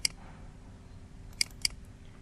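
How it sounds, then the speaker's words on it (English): Crisp mouse clicks on a computer: one sharp click, then a quick double click a moment later, faint and close over a quiet background hum. "Double click."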